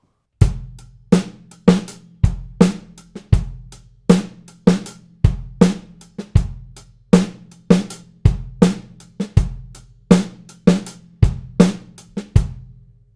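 On a drum set, a syncopated groove with accents and ghost notes repeats steadily: strong low kick and snare hits alternate with quieter taps, close and alone, with no talking.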